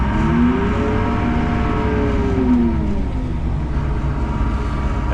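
The engine of an Apache AS1010 sprayer revving under joystick throttle, a steady loud drone whose pitch rises and falls, heard from close by with no talk over it.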